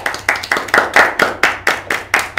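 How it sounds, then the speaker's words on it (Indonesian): A small group of audience members claps in unison for student organizations at an Indonesian university campus event, about nine loud, close, evenly spaced beats in a steady rhythm. "Boleh beri tepuk tangan abang-abang?"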